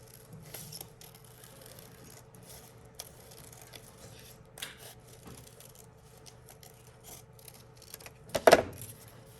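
Scissors cut a paper cloud shape: quiet, scattered snips and paper rustles, then one sharper, louder cut near the end.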